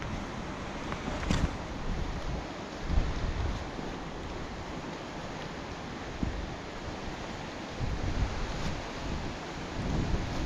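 Steady gusts of wind and rain buffet the microphone on a wet, slippery pathway leading to Gayle Force waterfall, a constant loud roar with occasional stronger blasts and no voices.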